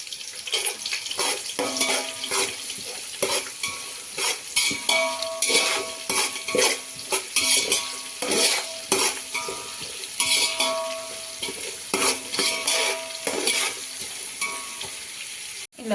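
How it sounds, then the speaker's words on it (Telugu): Onion fries with whole garam masala in a pan for chicken pulao, a bright, steady sizzle with frequent stirring scrapes and clatters, close and continuous. "మీడియం సైజ్ అయితే 2 వేసి బాగా ఫ్రై చేసేసుకోవాలండి, లైట్ పింకిష్ కలర్ వచ్చే వరకు."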